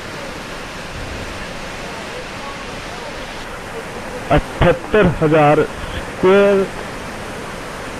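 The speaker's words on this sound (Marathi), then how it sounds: "नायग्रा फॉल्स याला अमेरिकन फॉल्स असं म्हणतात" Niagara Falls' American Falls thunders as a steady, broad rush of falling water on the Niagara River, with someone talking over it partway through.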